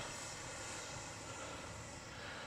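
Freewing F9F Cougar RC model jet taking off, a steady loud whooshing turbine-like roar that holds constant throughout, with no voices.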